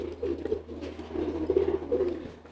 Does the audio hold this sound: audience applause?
no